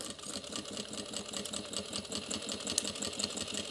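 Sewing machine stitching a tote bag, a steady fast mechanical whir with regular rhythmic needle pulses, fairly quiet and continuous with no talking.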